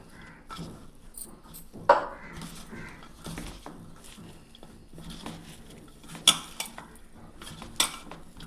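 Chicken being mixed by hand with spices in a bowl for hotel-style chicken fry, soft squelching and stirring with occasional sharp clinks against the bowl, close and intermittent.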